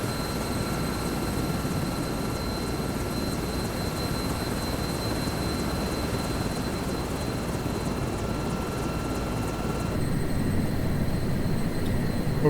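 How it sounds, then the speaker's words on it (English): Erickson S-64F Aircrane heavy-lift helicopter in Microsoft Flight Simulator 2024, a steady loud rotor and turbine drone with a whine, continuous throughout and shifting slightly toward the end as it winds down after landing. "So, that's the Erickson Aircrane in Microsoft Flight Sim 24."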